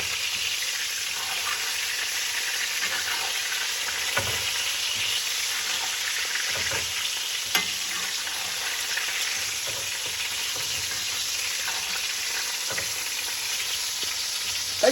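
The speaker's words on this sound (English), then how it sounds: "tilt the pan a little bit and spoon that butter over" Steak sizzling steadily in a hot pan as melted butter is spooned over it, a continuous loud fry with occasional soft clinks and spatters.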